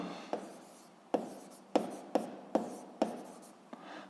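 Chalk or marker tapping and scraping across a board, about seven short, sharp strokes in an uneven rhythm with brief pauses between them, close and clear with no speech.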